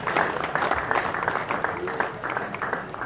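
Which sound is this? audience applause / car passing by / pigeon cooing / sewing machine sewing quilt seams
audience applause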